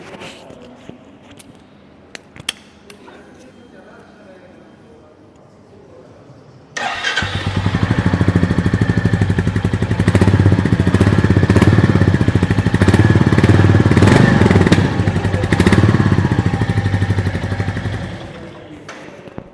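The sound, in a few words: Royal Enfield Goan Classic 350 motorcycle exhaust note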